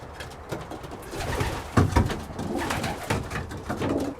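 Pet pigeons or doves coo repeatedly in a soft, close rhythm, with a few louder calls and some rustling in the middle.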